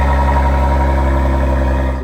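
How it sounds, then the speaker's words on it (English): A BMW B58 straight-six in a 2026 Ineos Grenadier idles after a cold start, a loud, steady, smooth low rumble heard up close and alone, easing slightly at the very end. "I cold started this morning and it sounded like I had an M340i idling in the driveway"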